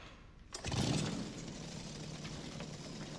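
A chainsaw idles in the Resident Evil 7 video game, a steady low mechanical rumble that swells briefly after a quiet start, then drones on at moderate level.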